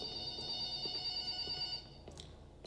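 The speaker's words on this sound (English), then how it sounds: "Alright, time to pick up the phone." A telephone rings in the video game Forgotten Memories, a steady, fairly faint electronic ring with no talk, cutting off partway through.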